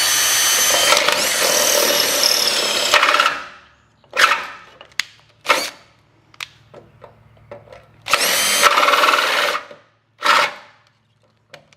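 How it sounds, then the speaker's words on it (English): A power drill bores out the old tailgate shock bushing on a Ram 3500 in loud, close bursts: one long run of drilling, then several short stop-start pulses and a second long stretch, with quiet gaps between them. "Removing that existing bushing did require a drill"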